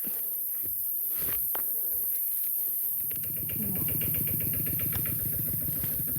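A chugging engine with a steady, rapid low thump, like a tractor running nearby, growing a bit louder partway through amid background noise.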